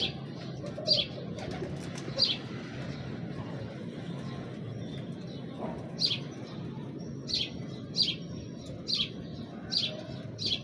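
A breeder's pigeons give soft low coos and repeated bright chirps in a rhythmic series, faint and close, over a constant low rumble of background noise.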